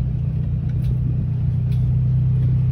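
A lowered car's engine rumbles at a steady, deep, loud idle from close by, with no voices.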